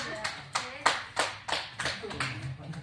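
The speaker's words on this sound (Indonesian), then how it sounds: "Tepuk tangan dulu dong untuk saya." A class of fifth-grade children claps in a classroom during a micro-teaching lesson, with a handful of separate bursts of applause spread over a few seconds and light background murmur between them.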